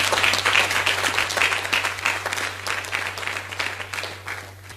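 A congregation claps together at an all-night Friday church service led by a prophet, a full, dense burst of many hands with a steady low hum beneath and no talk.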